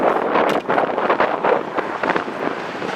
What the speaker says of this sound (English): It is windy. Wind is out of the northwest, so if it's extremely noisy in the camera, that's why.